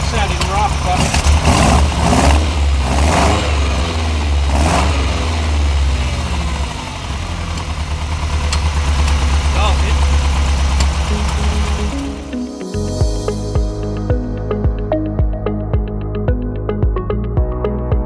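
A Ferrari 308GTS with refitted Weber 40 DCNF carburettors runs rough, its engine thrumming loud and close, then drops to an uneven, lumpy idle with rhythmic pulses; a voice speaks over parts of it.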